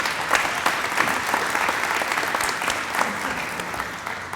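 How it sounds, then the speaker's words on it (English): An audience at an economic development announcement in Baldwyn, Mississippi applauds a state senator, with brisk, dense clapping from a moderate-sized crowd, steady and fairly close, for a few seconds. "Give him a round of applause."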